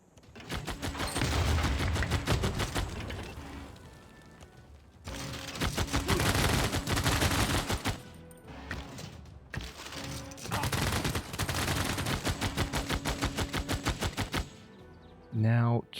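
An artillery army in the strategy game Civilization VI fires in three long, rapid volleys that crackle like sustained gunfire, loud and close, with quieter gaps between them and speech present in the clip.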